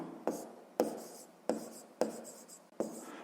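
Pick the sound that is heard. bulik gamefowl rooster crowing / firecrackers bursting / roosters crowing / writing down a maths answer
writing down a maths answer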